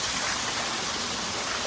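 Waterfall at a resort pouring in a steady, dense rush of falling water, loud and close, with no voices over it.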